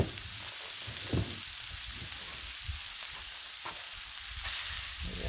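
Thick breakfast sausage patties fry on a Blackstone griddle with a steady, close sizzle and crackle. Faint scraping or stirring sounds surface now and then.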